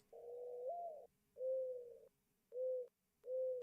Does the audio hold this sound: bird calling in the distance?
yes